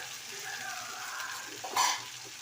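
Cauliflower chilli fries in a pan with a soft, steady sizzle, and a brief louder spitting burst near the end.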